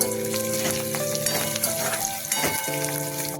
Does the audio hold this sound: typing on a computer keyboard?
no